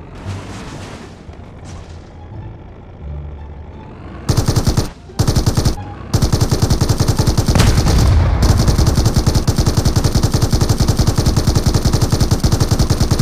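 An MG3 machine gun in PUBG Mobile fires in loud, close, rapid bursts, first two short strings broken by gaps, then a long sustained stream of shots.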